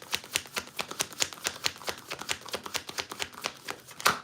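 Tarot cards are shuffled in a fast, even run of crisp riffling flicks, close and quiet, with a slightly louder snap at the end and no talking.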